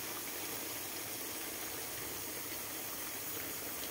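Water gushes strongly from a household water tank, a steady hissing, splashing rush that stays constant and close throughout.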